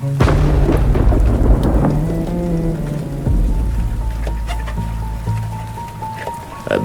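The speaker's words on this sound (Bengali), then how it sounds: "তার উপর বৃষ্টি হচ্ছে" Rain falls steadily beneath low rumbling, with sustained droning tones shifting in pitch and occasional sharp clicks.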